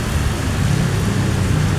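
Heavy rain pours steadily over Cagayan de Oro City, a dense, loud, unbroken hiss with a low rumble beneath it, and no voices.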